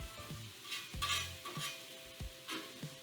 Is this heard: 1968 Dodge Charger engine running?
no